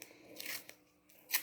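Scissors snip a small piece of masking tape, with a soft rustle followed by a short crisp cut near the end, quiet and close.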